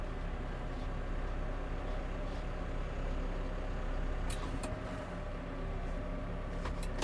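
Steady low diesel rumble of a New Holland T5 140 tractor idling at tick over while loading big bales, a continuous even drone with a few faint clicks and hisses toward the end.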